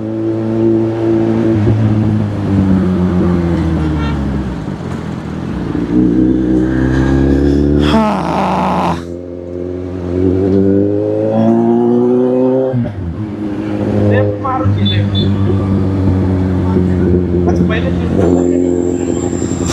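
A motorbike's engine drones while riding, its pitch climbing and dropping as the rider shifts and accelerates repeatedly, with a loud, close rumble and rushing wind throughout.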